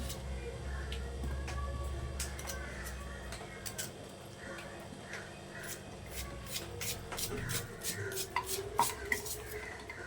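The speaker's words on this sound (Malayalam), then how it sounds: "ഞാൻ ചമ്മന്തി ഉണ്ടാക്കാൻ വേണ്ടിയിട്ട് സവാള അരിഞ്ഞെടുത്തിട്ടുണ്ട്" A knife chops onion on a board for a coconut-style chutney, giving a series of irregular, fairly crisp taps that cluster and speed up toward the end over a low kitchen hum.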